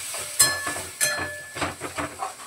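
Water from a mixer jar splashes into a hot pan of fried onions and turmeric for a yellow potato bhaji, setting off a close, crackling sizzle with a few sharp bursts as it hits the oil, then stirring sounds.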